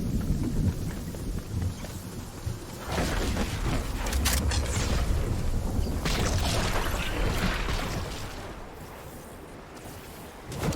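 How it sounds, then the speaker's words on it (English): A thunderstorm in the video game Fortnite brings a sustained, loud rumble with rain-like washing and crackling surges that swell midway, then ease off toward the end. "that is a storm"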